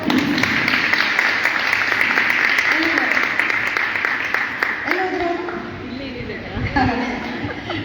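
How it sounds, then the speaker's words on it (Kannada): Women at a prayer group meeting applaud for sister Nirmala, loud and continuous for several seconds before fading out beneath a speaking voice and light chatter. "ಸಹೋದರಿ ನಿರ್ಮಲ ಅವರಿಗೆ ನಾವು ಜೋರಾಗಿ ಚಪ್ಪಾಳೆ ತಗೋಣ."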